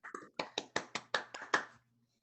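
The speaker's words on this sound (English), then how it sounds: "Let's give her a round of applause, everybody out there in Zoom land" A few hands clap quickly, about eight close, sharp claps in a fast rhythm before it goes quiet.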